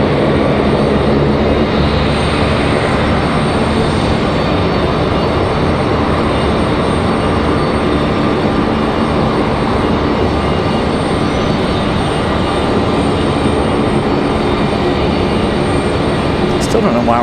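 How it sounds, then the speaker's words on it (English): A Lockheed C-130 military transport taxis at Raleigh-Durham airport with a loud, constant droning engine rumble that holds steady throughout, with a voice faintly under it. "C-130 is moving now."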